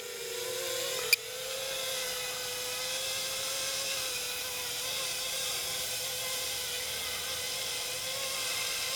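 A repaired model Mars lander's motors whine steadily as it descends during an outdoor test flight, a continuous high buzzing heard from a distance after a brief click.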